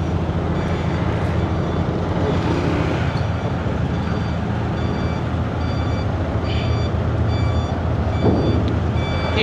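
Steady roar of heavy truck engines and traffic in a crowded truck parking area, with faint intermittent high reversing beeps sounding in short bursts through the din.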